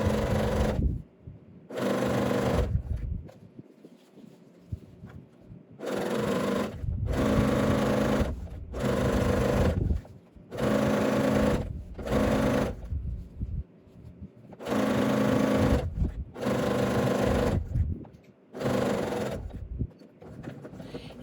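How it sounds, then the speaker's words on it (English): Sewing machine back stitching through quilted Christmas stocking fabric, running in steady bursts of loud mechanical whirring separated by short pauses, with no talking. "Securing the stitches, that is, as in back stitching at the beginning and the end."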